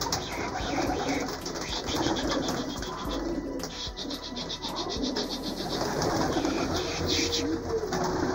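Many homing pigeons coo together in a busy, overlapping chorus, with occasional wing flaps and rustling nearby.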